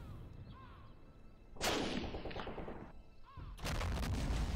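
Cannon fire rings out in the World War I battle game Battle of Empires 1914-1918, two heavy booms with a lingering rumble over a constant din of battle, each blast loud and close.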